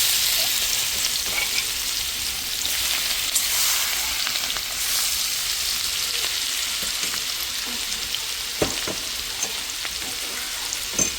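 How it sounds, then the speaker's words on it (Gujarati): Garlic and chillies frying in hot oil with ajwain, asafoetida and turmeric for a cluster bean curry, a steady close sizzle with occasional stirring clicks, no voices. "અંદર છે ને લસણ મરચાં નાખી દઈશું"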